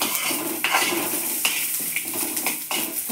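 Garlic, onion and curry leaves fry in a pan, with a steady loud hiss of oil and repeated scraping and clinking of a metal spoon against the pan at an irregular pace.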